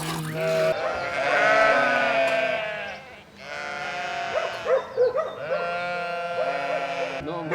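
Sheep bleat repeatedly and close by in a village in Hasdate, Romania, the calls overlapping in a loud flock chorus that carries on without pause.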